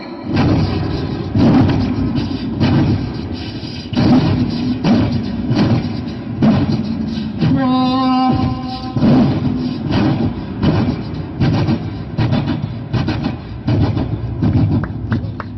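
On a Malayalam comedy stage, a performer uses only his voice to imitate one train passing another: a loud, steady rumble with rhythmic thumping beats throughout and a brief horn-like tone near the middle.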